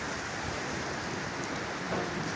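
Steady rain falls outdoors on a livestock farm where sacrificial animals are kept, a constant broadband hiss with no clear single drops, fairly faint and uninterrupted throughout.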